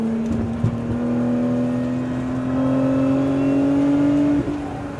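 A 2025 Lotus Emira sports car engine under throttle on a racetrack, a steady droning tone rising slowly in pitch as it pulls, loud and close with a brief dip near the end.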